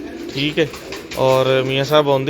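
Pigeons cooing in a loft, soft repeated throaty coos close by, mixed in with someone talking throughout.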